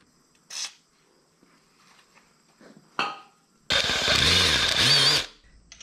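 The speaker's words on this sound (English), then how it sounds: "The screws are stripped, so I'm going to drill them out." A drill bites into stripped carburetor screws on a Yamaha XS650 being rebuilt, a single loud burst of close, whining drilling of about a second and a half that comes after a few short, sharp mechanical clicks and knocks.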